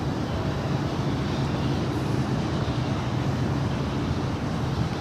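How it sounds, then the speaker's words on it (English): A Delta Airlines Boeing 767-400ER jet departing LAX, a steady broadband roar of jet engines heard from a distance, constant in level throughout with no voices. "That is flight 553 heading back to JFK. It's a 767-400ER."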